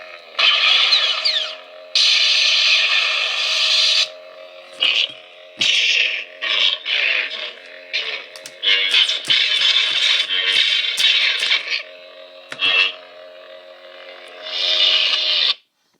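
Dark side sound font on a purple MHS lightsaber, a steady low hum broken by repeated loud bright swings and clashes that come in bursts, close and with no talking.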